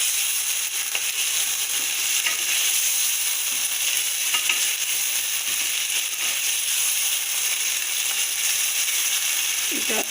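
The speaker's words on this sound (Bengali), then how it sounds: "এটা এইভাবে আমি একটু কষাবো" Lemon pepper chicken seasoned with ground black pepper sautés in a pan, giving a steady, close sizzle with faint scraping and stirring clicks throughout.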